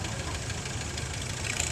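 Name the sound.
restored 1948 W4 tractor engine running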